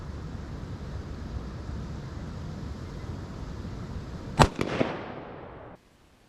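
.308 Winchester rifle fires a single sharp shot outdoors on a range, a loud crack followed by a brief echo tail, over steady wind-like background noise.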